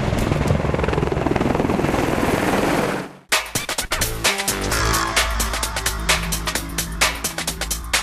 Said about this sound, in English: The Apache helicopter is the Army Air Corps' most potent fighting machine.